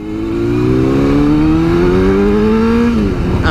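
Motorcycle engine pulling hard up a hill out of a tight corner, a steady close rising drone that climbs in pitch for about three seconds, then drops briefly before picking up again.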